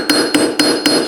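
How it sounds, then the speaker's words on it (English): Ball peen hammer pounding a carving to texture its surface, four sharp metallic strikes at a steady rhythm, close and loud, each ringing briefly. "Got my ball peen hammer here"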